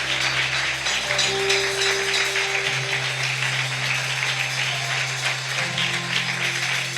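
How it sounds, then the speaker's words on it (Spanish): A church congregation applauding together, a dense, sustained patter of many hands over a low steady hum, lasting throughout. "Denle un aplauso al Señor"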